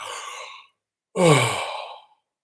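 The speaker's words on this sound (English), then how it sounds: "So don't be offended if I yawn a little bit." A person yawns, a breathy exhale fading out, then after a short pause a louder drawn-out yawn with a voiced, descending tone that trails off into quiet.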